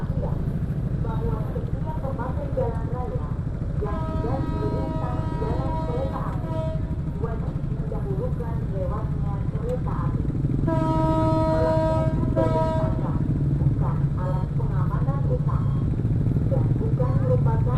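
A babaranjang coal train passes a railroad crossing, its horn sounding in two long sustained blasts over steady rumbling traffic and motorcycle noise, with someone talking throughout.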